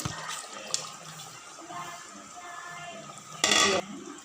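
Gram flour batter is poured into a simmering kurma for poori and stirred in, giving wet sloshing and soft utensil scrapes with a brief louder splash near the end, close and fairly quiet with no talk.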